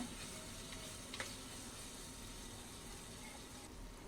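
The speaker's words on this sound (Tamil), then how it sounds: "இப்போ நல்லா வந்து தக்காளியும் நல்லா வதங்கிக்கிட்டு இருக்கு" Tomatoes sautéing in a pan for a mullet fish curry make a steady, soft sizzle with a faint hiss throughout and one small clink partway through, with no voices.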